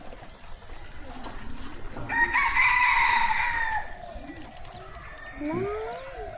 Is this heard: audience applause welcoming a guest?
no